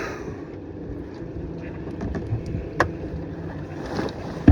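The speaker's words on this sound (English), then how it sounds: "first time sailing in some serious wind is no fucking joke" A sailboat runs through strong wind, giving a continuous rumbling wash of water and air with occasional slaps and knocks, and a louder thump right at the end.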